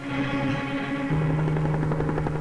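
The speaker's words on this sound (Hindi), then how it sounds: "ये हेलीकॉप्टर" A helicopter in a film drones steadily and loudly overhead, its rotor whine shifting pitch partway through, with no voices over it.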